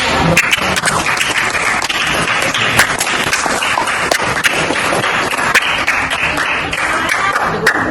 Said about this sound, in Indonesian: Kita beri aplaus untuk kelompok 1 dan kelompok 3